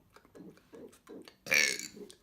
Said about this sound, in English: today I'm doing alphabet burping